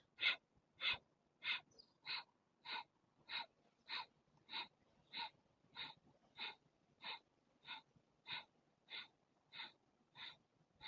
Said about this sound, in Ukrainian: Вдих, видихи короткі через ніс.